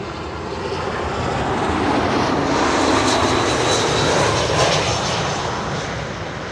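An airplane landing at Schiphol passes with a loud, continuous engine roar that builds gently and then eases, a wide rushing drone filling the whole clip with no speech.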